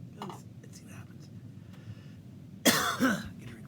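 One close, harsh cough, with a throat-clearing rasp right after it, breaks a quiet stretch that holds a few faint murmurs.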